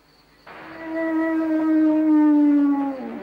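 A voice imitates a leopard roar, a single drawn-out, strained vocal growl that swells, holds and then falls away, close and fairly loud, with no other voices heard.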